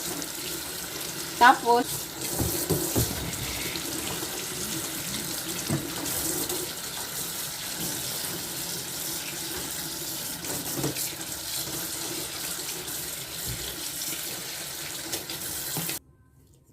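Tap water gushes steadily into a sink while tiger prawns are washed by hand, a continuous splashing rush with small knocks and a brief spoken word, stopping abruptly at the end.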